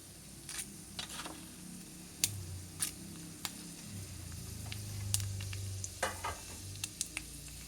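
Tempering spices fry quietly in a pan for masala dosa filling, a low sizzle broken by sharp clinks and scrapes of a spoon against the metal at an irregular pace.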